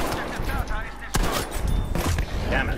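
Lewis gun machine-gun fire in a first-person shooter game, sharp bursts and shots cracking across a busy battlefield mix, close and loud, with a voice talking over it.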